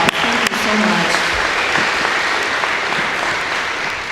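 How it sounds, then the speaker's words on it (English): A crowd at a political rally in Willimantic, Connecticut claps loudly and steadily, a thick wash of applause with a short voice at the start, then continuous clapping that fades slightly toward the end. "So can we give them another round of applause?"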